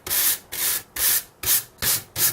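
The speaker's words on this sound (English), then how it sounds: "And it's used just like that to remove chips and burnish the areas." A stiff natural-bristle carving brush scrubs over carved wood in six quick, even back-and-forth strokes, each a close, loud, hissing rasp with a short gap between them.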